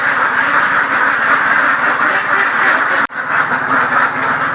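Two-year-old ducks on a duck farm quacking in a loud, dense, continuous chorus close by, with a very brief break near the end before the clamor resumes.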